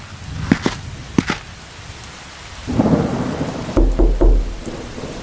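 Steady rain patters down with a low rumble of thunder, while scattered footsteps or taps sound close by.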